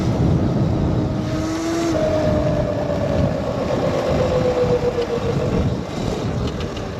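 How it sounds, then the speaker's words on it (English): A snow plow truck passes on a snowy road during a Christmas Eve snowstorm, a steady, loud broadband rumble with a rising engine tone that swells and fades as it goes by, over constant wind noise. "Plow trucks, see, this is what I'm talking about."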